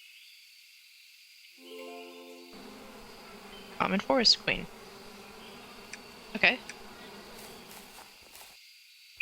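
Buzzing of bees in the APICO beekeeping game rises in short bursts over a steady insect drone, with one brief spoken word near the end.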